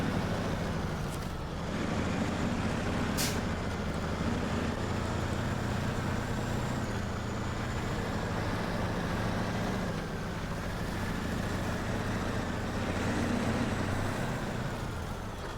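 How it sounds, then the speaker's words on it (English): A loaded truck in the SnowRunner video game hauls its cargo with a steady, low engine drone that holds at an even level throughout, with no one talking over it. "This truck, even when pulling a load,"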